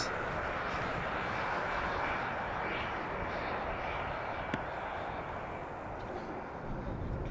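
An airliner lands on runway 18R at Amsterdam Schiphol, its jet engines a loud, steady broadband roar that holds evenly throughout, with one sharp click partway through and no clear voice over it.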